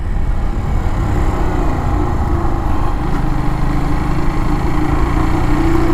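A Kawasaki W175 motorcycle engine drones loud and close at a steady pitch throughout, a constant low single-cylinder hum with no voices.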